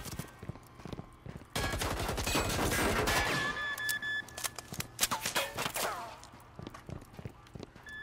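Gunfire in the video game Firewall Zero Hour rattles in a dense rapid volley, then gives way to scattered single shots and short bursts.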